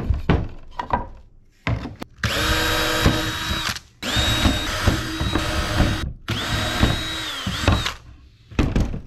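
A power drill drives screws into a homemade fishing rod holder. It makes three loud, close bursts of rising whine with short clicks and pauses between them, and no one speaks.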